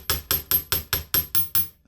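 Chasing hammer striking jewelry wire, eight evenly spaced sharp metallic taps in a steady quick rhythm, loud and close with no talk.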